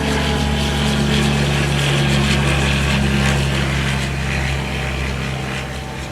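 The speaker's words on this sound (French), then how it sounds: "Un petit avion, Piper Aztec, décolle de l'aérodrome de Marignane," A small Piper Aztec propeller plane takes off from Marignane airfield near Marseille, France, in 1975. Its engine drones loudly and steadily with a layered humming tone, then eases off slightly near the end.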